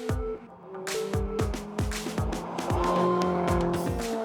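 A Lotus Elise on a fast track lap, engine revving through repeated gear changes with rising and falling tones, tires squealing loudly through corners, close and continuous without talk.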